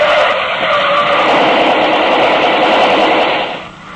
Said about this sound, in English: The getaway car slewed around and headed back the way it had come